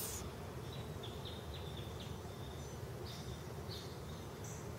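Honeybees fly around a Warre hive outdoors during installation, a continuous close buzzing with individual bees whining past over a steady background hum.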